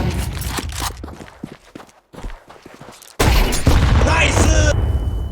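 A flashbang grenade goes off in Counter-Strike 2 with a loud, sudden burst partway through, followed by a sustained bright ringing roar, after scattered footsteps and gunfire; a voice speaks nearby.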